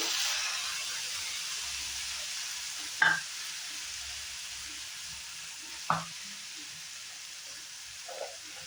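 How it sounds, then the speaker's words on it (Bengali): Onions sizzle in a pan for a dry fish recipe, a faint steady hiss broken by two or three sharp stirring clinks and scrapes, alone and close. "যতক্ষণে ব্রাউন কালার না আসে ততক্ষণ আমি একটু পেঁয়াজটা ফ্রাই করে নেব।"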